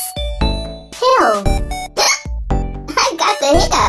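Repeated short, voiced hiccup sounds in a children's song, made by a child-like voice imitating hiccups over bright, loud music, coming in quick bursts.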